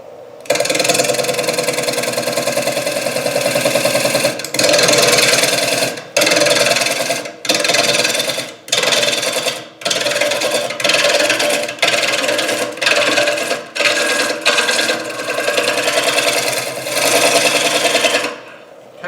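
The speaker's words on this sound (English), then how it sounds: "So we're just going to scrape this rim with the bottom wing of the gouge like we were doing before" A gouge shear-scrapes the rim of a dry, hard wooden bowl turning on a lathe, a loud steady whirring rasp broken into repeated strokes by short pauses.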